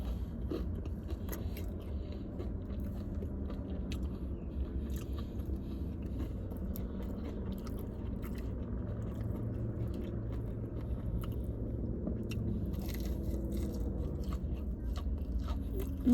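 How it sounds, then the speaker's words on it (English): Crunchy Chick-fil-A chicken being bitten and chewed close to the mic, a steady run of soft crunching and mastication over a low background hum, with no talking. "Now the crunch."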